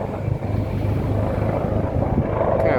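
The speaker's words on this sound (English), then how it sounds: "That's the chopper." A helicopter flies close over a beach during a storm, a steady loud rotor rumble and engine drone filling the whole stretch with no letup.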